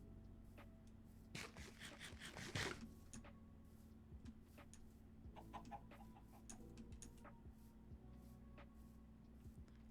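Chickens in a Minecraft plains biome give short, repeated clucks against steady game background noise, with a louder burst of sound partway through.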